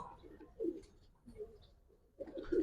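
Giribaz pigeons coo in a few soft, throaty bursts near and close, with a pause between calls and a louder stretch at the end.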